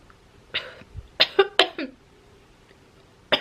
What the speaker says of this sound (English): Watching me cough while I smoke this cigarette and watching my throat.